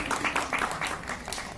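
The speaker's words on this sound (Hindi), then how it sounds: "जोरदार तालियों से स्वागत चलता रहना चाहिए।" Applause from the audience at a cooperative society's annual function after a dance performance, a brief patter of claps of moderate loudness that runs steadily with no talk over it.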